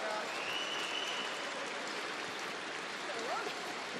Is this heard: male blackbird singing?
no